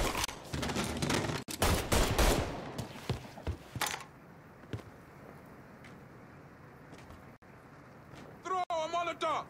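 Gunfire in the video game Mafia III, loud bursts of rapid shots crowding the opening seconds, then a quieter stretch of scattered single reports, with voices speaking over the action.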